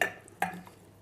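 Frozen cherries drop into a pan in two quick, light clatters, faint and close, with a short rattle as they settle and nothing else around them.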